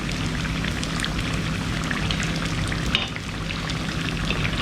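Unniyappam batter frying in hot coconut oil over a medium flame, a steady dense crackle and sizzle of fine bubbling close by that continues without a break.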